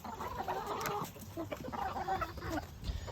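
Backyard chickens cluck continuously while being fed, several birds murmuring and squawking close by in an outdoor setting.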